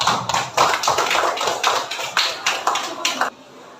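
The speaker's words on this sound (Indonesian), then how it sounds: "kalau sepakat tepuk tangan dulu" A small group of participants in a teachers' sharing forum claps hands, distinct sharp claps in an irregular, fairly close rhythm for about three seconds before stopping abruptly into quiet.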